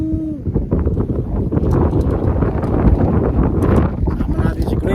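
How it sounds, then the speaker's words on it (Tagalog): Strong wind gusts across the microphone at a beach in Aurora, a loud continuous rumbling buffeting with people talking over it. "Grabe, ano rito? Malakas ng hangin."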